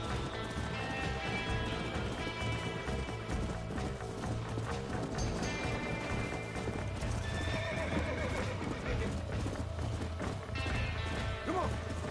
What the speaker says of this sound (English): The horse does not want to be captured.